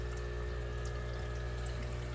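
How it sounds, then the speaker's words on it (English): Water trickling through a light fixture grid, also called egg crate, in a small DIY aquarium sump, a steady soft pouring hiss under a constant pump hum, faint and unbroken. "You can see how the water trickles through it."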